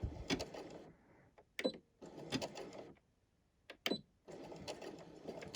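A sewing machine runs a tacking stitch on a quilt in short bursts of close whirring, broken by quiet pauses between runs, with no talking.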